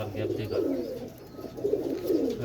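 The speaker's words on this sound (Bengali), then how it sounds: "এই কবুতরগুলো খুবই ভয় পাচ্ছে" High-flyer pigeons coo in soft, repeated throaty bursts close by, the low rolling calls rising and falling in a steady rhythm.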